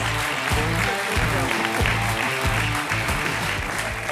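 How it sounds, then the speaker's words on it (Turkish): An audience claps loudly and steadily for young entrepreneurs at a Turkish event about smart devices for visually impaired people. The applause is thick and continuous, with many hands throughout. "Alkışlar bu gençlerimize."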